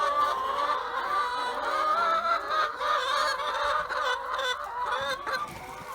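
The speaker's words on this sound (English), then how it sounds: "I've got to fight the chicken noise." A flock of chickens clucks steadily and close by on a pig pasture, a busy overlapping chorus of hens with no talking.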